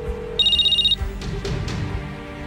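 A phone's electronic ring warbles once in a quick burst, followed by a few clicks and soft rustling.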